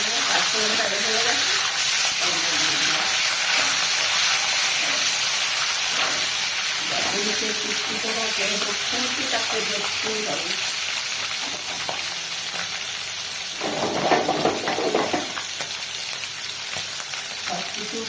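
Panch phoron spices fry in hot oil in a pan, giving a steady close hiss and crackle with brief stirring noises, while someone talks over it for most of the clip.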